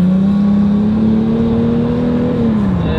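A Peugeot 405 engine revs loudly and steadily inside the car, its tone climbing slightly, holding, then easing down near the end, with no talk over it.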